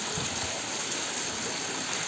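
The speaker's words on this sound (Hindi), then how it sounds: "काफ़ी दूर से पानी इतनी तरीके से बह के आ रहा" Rainwater runs over a road after heavy rain, standing several inches deep and flowing from far off. It makes a steady, dense wash of rushing and gurgling water that holds close and even throughout, with no voices.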